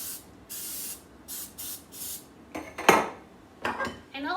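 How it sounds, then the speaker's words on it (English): A can of cooking spray coats a muffin tin in several short, bright hissing bursts, followed by clattering metal of pans and utensils close by. "now I'm gonna grab some cooking spray"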